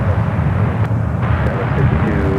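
An Air Premia Boeing 787 Dreamliner airliner at San Francisco airport produces a loud, steady low engine roar that fills the whole stretch, with a person talking over it.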